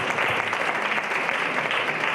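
An audience at a small business roadshow panel discussion gives a brief, dense round of applause, steady and fairly loud throughout the short stretch.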